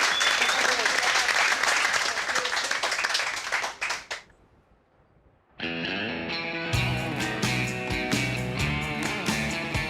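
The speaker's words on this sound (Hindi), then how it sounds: "तालियां, तालियां" Applause from an audience in a dubbed drama episode, a loud burst of clapping and cheering that drops away into near silence before music with singing begins.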